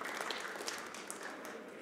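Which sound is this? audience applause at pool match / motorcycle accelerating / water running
audience applause at pool match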